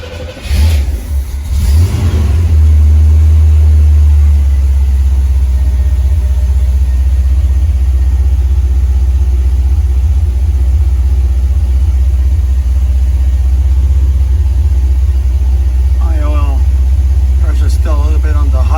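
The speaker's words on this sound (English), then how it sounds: "I just started the car" Car engine just after starting, idling in a steady, loud low rumble with a brief rev at first, with a voice talking near the end.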